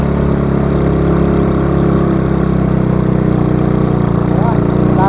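An old motorcycle engine labouring up a hill on a ride in Bicol, Camarines Sur and Camarines Norte, a loud, close, steady droning hum with no speech.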